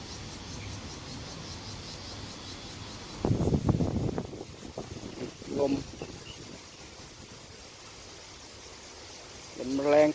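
Strong wind rushes steadily outdoors at a fishing spot up in a tree, a constant broadband roar with gusts and some rustling, while someone talks briefly partway through.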